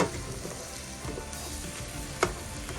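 Seasoned taco meat browning in a pan, a steady close sizzle and crackle with scraping stirs and an occasional sharper pop, no voices.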